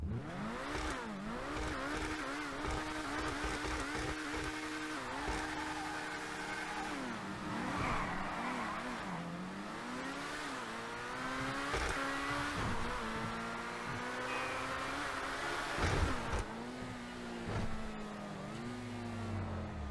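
A Progen Emerus supercar engine in GTA Online revs repeatedly, pitch sweeping up and down through throttle blips, with a steady loud mechanical drone and brief tire squeal, no talking.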